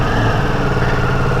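Ducati motorcycle engine with an aftermarket exhaust, running at a steady idle just after starting, a continuous close rumble with no voices.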